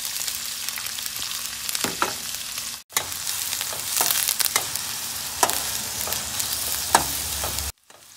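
Chopped onion and green chillies frying in hot tempering oil in a pan, a steady close sizzle with occasional stirring scrapes and clatters, no voices.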